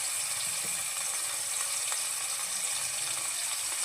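Onions with salt frying in a pan, a soft, steady hiss of sizzling oil that stays fairly quiet and even throughout.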